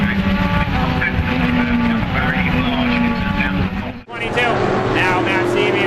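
A race car crash during an auto race, with cars roaring at full speed and tires skidding and squealing, a sudden impact break near the end, under continuous excited commentary.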